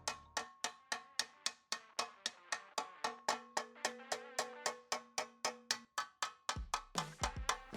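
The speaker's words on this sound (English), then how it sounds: "get my favorite hammer, and then start tapping it from the backside onto there" A hammer taps steadily on the back side of an aluminum headlight panel, producing a rapid, even series of bright metallic pings and knocks, close and alone, about three strikes per second.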